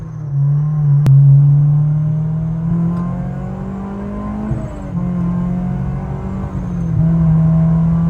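A supercharged Honda S2000 engine drones loud and steady from inside the moving car, rising and falling gently as the revs change, with no voices over it.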